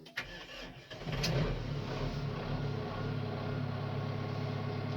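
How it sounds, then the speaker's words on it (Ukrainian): A 94 hp Kubota SMZ 95 tractor from 2009 cranks its diesel engine briefly, catches without glow-plug preheating, and settles into a steady, fairly loud idle close by. "Давайте попробуємо завести."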